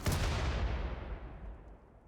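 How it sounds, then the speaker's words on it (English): A tank cannon fires a single test shot in the video game Rimworld: one deep, booming blast with a sharp onset and a long rumbling decay that fades out over about two seconds, heard on its own. "I just built a proper tank and decided to name it the Poo Cannon."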